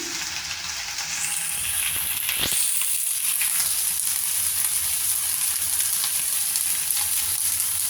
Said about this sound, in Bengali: ভালো করে এটাকে কষবো, ভালো করে কষে নিচ্ছি।